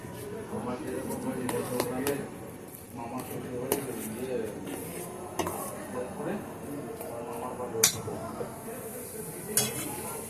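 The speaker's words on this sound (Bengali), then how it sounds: "দেখুন আমি অল্প অল্প করে জল দিচ্ছি আর সর্ষেটাকে গুলে নিচ্ছি।" Mustard being stirred and dissolved with water added a little at a time for kasundi, made without oil: soft scraping and clinking of a utensil against a bowl, with occasional sharper clinks, under ongoing talk.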